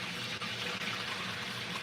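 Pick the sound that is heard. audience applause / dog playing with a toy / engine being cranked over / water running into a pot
water running into a pot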